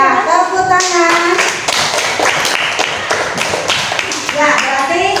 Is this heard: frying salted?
no